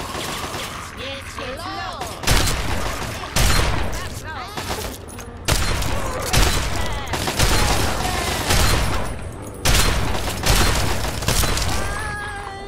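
Rapid bursts of gunfire in the video game Fallout 3 crackle continuously, with heavy shots and sharp volleys repeating close and loud over several seconds.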